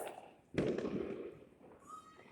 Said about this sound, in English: families are celebrating, fireworks go off